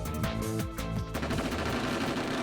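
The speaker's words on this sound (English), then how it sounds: "Simultaneously, the sound of gunfire rings out." Rapid gunfire in the video game Robotics;Notes Elite, a dense, loud burst of automatic shots that gives way to a sustained rattling fusillade.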